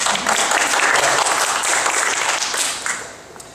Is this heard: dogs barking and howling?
no